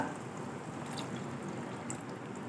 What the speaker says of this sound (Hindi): अब हम इसमें शामिल कर देंगे 1 कप पानी का